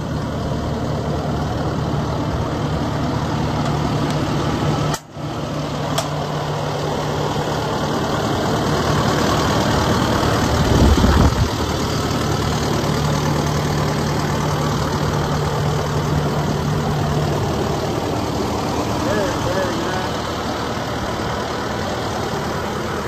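A 2018 Kubota SVL75-2 skid steer idles with its rear engine compartment open, producing a steady, even drone close by for the whole stretch, broken by one short knock partway through.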